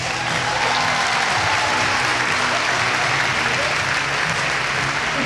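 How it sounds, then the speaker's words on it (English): A large crowd at a charity figure-skating event, Battle of the Blades, applauds in a sustained, loud wash of clapping that holds evenly throughout without breaks. "So give yourselves a round of applause."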